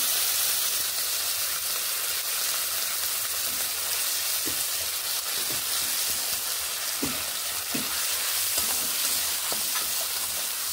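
A ground paste of ginger, cumin and chilli sizzles in hot oil over a tempering for vegetable dal, a steady hissing fry with a few soft stirring knocks, close and without talk.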